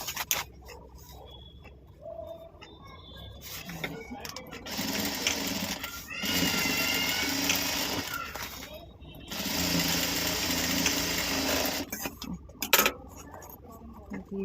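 Sewing machine stitching a round handbag in bursts of steady whirring, with pauses between runs and a few clicks, close and fairly loud while a person talks at times.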